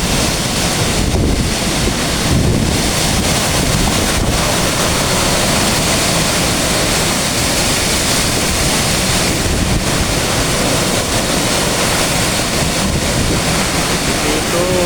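Loud, relentless roar of typhoon wind buffeting the microphone, continuous and gusting throughout with a heavy rushing sound.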